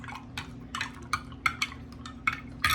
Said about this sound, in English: And now I'm just going to stir that up.